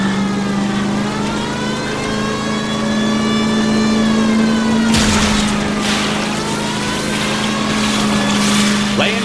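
A car engine accelerating hard during a chase in the video game LA Noire, a steady loud droning hum that swells and surges with a burst of rushing noise midway, sustained throughout.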